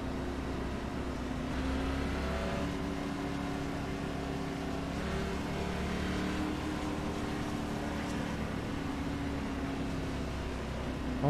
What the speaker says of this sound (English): you could just tell by how high the engine sounds